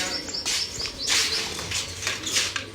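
Pigeons call and chirp in a loft of high-flying birds, with a steady layered chorus of soft coos and brief tweets close by, plus occasional wing flutters and no voices.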